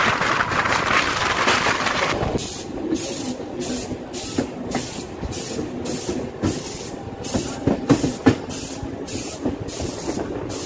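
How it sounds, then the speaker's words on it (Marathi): A local passenger train departing Pimpri Chinchwad station near Pune rumbles along steadily with hissing, rattling wheels and rhythmic clacks over rail joints, moderately loud and continuous throughout. "आपली जी ट्रेन आहे ती पिंपरी चिंचवड रेल्वे स्टेशनपासून निघाली आहे"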